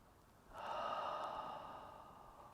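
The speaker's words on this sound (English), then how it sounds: "Soft breathing." A soft, airy breath is drawn in after a brief quiet moment, a gentle hiss that swells and slowly fades during a calm qigong session in a studio, close and unaccompanied by talk.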